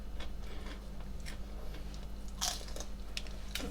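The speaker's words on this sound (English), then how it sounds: "But you hear how crunchy that is?" Crisp crunching bites and chewing of an Egglife egg-white wrap up close, scattered sharp crackles over a steady background hum.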